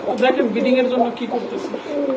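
Sheela pigeons coo in a steady, overlapping low murmur, close and fairly loud, with several birds calling together throughout.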